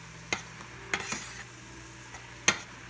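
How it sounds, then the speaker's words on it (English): Mushrooms and mixed vegetables sauté in a pan under a soft, low sizzle, broken by a few sharp clicks and scrapes of a utensil stirring, the loudest near the end. "We always wanna cook a mushroom, never wanna eat it raw. Just keep the saute."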